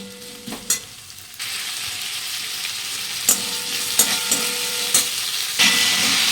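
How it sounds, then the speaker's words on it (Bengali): Onions fry in oil with chili and cumin in a kadai, a loud steady sizzle that starts abruptly, with a few sharp clinks of a stirring spoon against the pan, close by and without talk. "তেল দিয়ে লঙ্কা জিরে ফোড়ন দিয়ে পেঁয়াজটা ভেজে নিচ্ছি"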